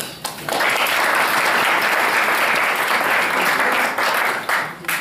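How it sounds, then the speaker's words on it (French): A lecture audience applauds a speaker at an evening talk on Greek tragedy and Athenian democracy, dense clapping that swells in after a brief pause, holds evenly, then tapers off. "Vous avez bien fait d'applaudir avant"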